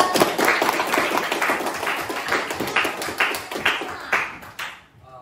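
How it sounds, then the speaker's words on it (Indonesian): Classroom applause for a student named Zafran, a fairly sparse group of hands clapping in an irregular rhythm close by, gradually thinning out and stopping near the end. "tepuk tangan kepada Zafran"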